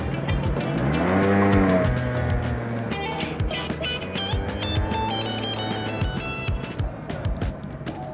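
A red Vespa scooter riding through busy London traffic, with loud continuous engine and road noise, a rising whine early on and repeated sharp clicks and rattles over a steady rumble.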